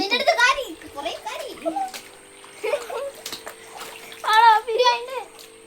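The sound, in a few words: water splashing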